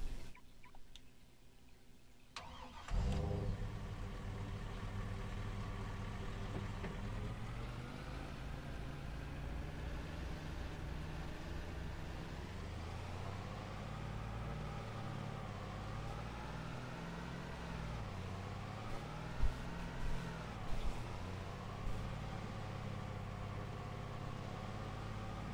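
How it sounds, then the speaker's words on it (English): A truck engine in Farming Simulator 22 runs steadily and loud after a brief quiet start, its low drone shifting in pitch as the vehicle drives and accelerates, with a few small knocks near the end and no talk. "I am gonna hop in my truck here"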